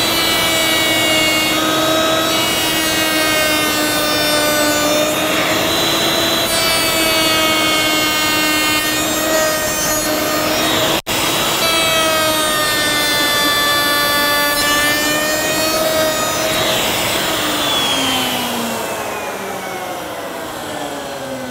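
A router running a profile bit along the edge of an MDF workpiece, a loud steady high-pitched whine with strong tonal harmonics throughout, pitch dipping slightly under load near the end.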